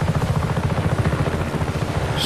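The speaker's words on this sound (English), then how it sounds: "the helicopter's pretty easy to fly" A helicopter in Just Cause 3 flies with a steady, loud rotor thump that beats rapidly and evenly under a broad engine roar, heard close and continuous.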